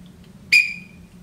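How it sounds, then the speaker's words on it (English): A single sharp, shrill blast of a whistle rings out briefly over a quiet room hum, loud and close. "This is a whistle."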